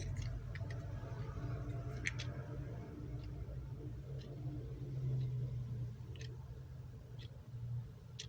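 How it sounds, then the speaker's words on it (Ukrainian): A Nescafe A-1 electromechanical clock ticks faintly and somewhat irregularly, each sharp click sitting over a steady low rumble and hum in a quiet room. "цокає щось"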